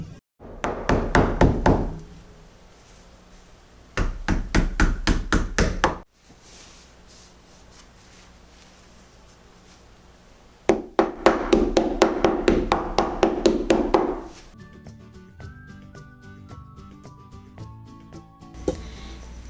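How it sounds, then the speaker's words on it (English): Hammer driving upholstery into a wooden couch frame while reupholstering it: rapid close bursts of sharp taps in three separate runs, with quieter pauses between them. "And then hammer it in as tightly as you can."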